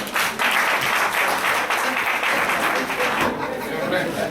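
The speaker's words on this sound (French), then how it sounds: "Acclame le Seigneur Jésus-Christ de Nazareth" A church congregation applauds during a French-language sermon, a loud sustained burst of many hands clapping, with voices mixed in the crowd.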